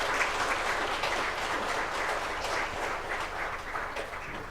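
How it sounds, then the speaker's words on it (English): An audience at a seminar applauds in a dense, even wash of clapping, fairly loud and sustained throughout, with no talk over it. "So let's applaud him"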